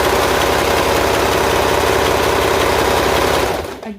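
A serger stitches elastic onto ruffle shorts with a loud, steady mechanical whir that runs continuously for over three seconds, then quickly winds down and stops near the end.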